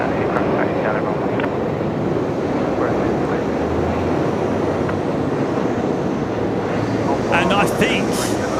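An airliner taxis along a runway at Brisbane Airport at night, a broad, continuous engine roar with wind rumble, fairly loud and steady, while a voice talks over parts of it.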